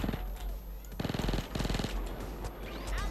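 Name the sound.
Micro Uzi SMG gunfire in Payday 2 video game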